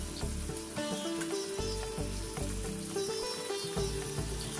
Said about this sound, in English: Add the remaining chopped tomatoes and saute everything until the masala is perfectly cooked.